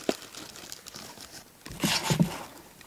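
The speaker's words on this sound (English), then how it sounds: "what I'm doing is put the batteries into a plastic bag" A plastic bag crinkles and rustles as bicycle batteries are packed into it for bikepacking gear, soft scattered crackles that grow louder and busier in the second half, close by and alone.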